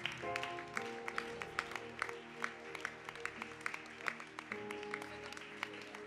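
Applause from a worship or seminar audience at Lion Alpha School, rising to their feet to acclaim, with scattered claps and cheers over sustained music chords.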